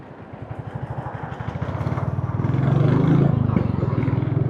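A motorcycle engine runs on a solo ride from Delhi toward the Aravalli Hills, with a close, throbbing, pulsing idle-to-cruise rumble that swells midway and then eases, with no speech.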